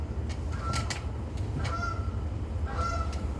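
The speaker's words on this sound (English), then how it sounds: "Geese." Several geese honk in short, repeated calls at moderate distance, a few separate honks spread across a quiet outdoor background with low rumble.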